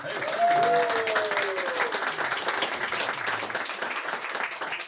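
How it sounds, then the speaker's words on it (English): Applause from guests at a pot luck dinner, a continuous moderately loud patter of many hands, with a brief voice rising over it early on. "Give her a round of applause."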